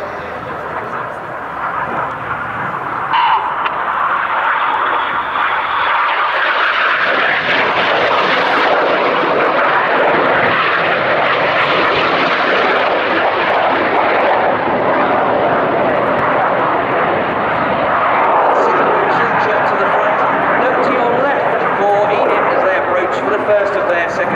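Red Arrows display jets fly a cyclone manoeuvre at an air show, filling the air with a loud, continuous engine roar that swells and shifts as the formation rolls overhead, with no break in the sound.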